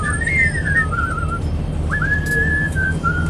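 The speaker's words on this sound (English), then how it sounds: "Gentlemen, there's no whistling on the bus." Someone whistles a wavering, sliding tune in two phrases aboard a bus carrying inmates to a jail, clear above a steady low engine rumble.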